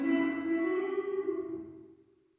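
A single guitar note rings through a BOSS GT-1000 reverb set to high feedback, its sustained tone blooming and then fading out over about two seconds.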